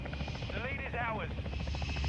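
A chopper gunner helicopter in the video game Call of Duty Modern Warfare II makes a continuous, loud, buzzing rotor drone throughout, with a voice briefly heard over it.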